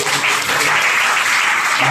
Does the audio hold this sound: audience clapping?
yes